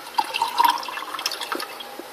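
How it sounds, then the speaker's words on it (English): Water poured from grapes soaked in a bowl into another container, a close, continuous splashing and trickling pour with bright dripping tones, no talking. "And I'm going to pour the water into here."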